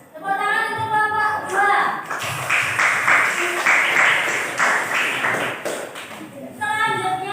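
Classroom students clap for their teacher during a mathematics lesson, a burst of brisk clapping of several seconds, bracketed by a speaking voice at the start and end.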